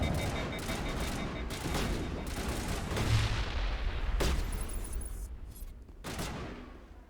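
Repeated heavy gunshots from a weapon in Mass Effect: Legendary Edition, a sci-fi shooter, firing in bursts with sharp broadband blasts and booming tails over a busy combat backdrop.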